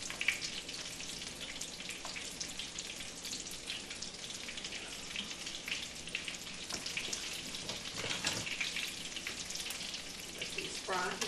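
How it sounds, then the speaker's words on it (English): Corn fritters frying in a pan of hot oil, a steady close hiss and crackle with scattered small pops that runs continuously without letting up. "Let these fry here."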